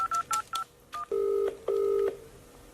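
A telephone number being keyed in as a series of short DTMF tone beeps, followed by two longer sustained tones, clear and close with no talking.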